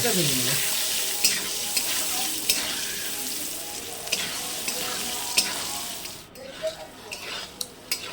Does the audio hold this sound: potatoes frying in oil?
yes